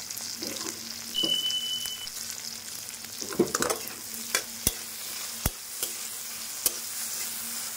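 Salted, turmeric-dusted eggplant being stirred in a frying pan, with a steady soft sizzle and a few sharp scraping clicks of the spoon against the pan, close and alone without speech.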